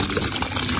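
Water leaking and gushing from a leak inside a house, a loud, close, continuous rushing splash with no talk over it.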